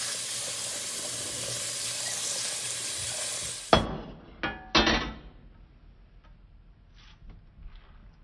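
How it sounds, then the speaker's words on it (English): Rice being washed in a pot: a steady rush of running water stops, then close splashes and clinks follow as the grains and water are stirred, fading to quieter sloshing. "I'm gonna wash it and throw it in my pot"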